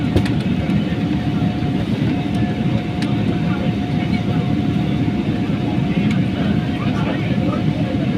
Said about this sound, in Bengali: এই রানওয়ে থেকে এখন মূল রানওয়েতে ঢুকছে।